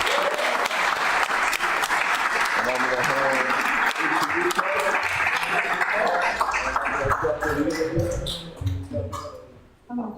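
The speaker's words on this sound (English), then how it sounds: "Big round of applause for these guys." Loud, sustained applause from an audience at a city council meeting fills most of the clip, fading near the end while someone speaks over it.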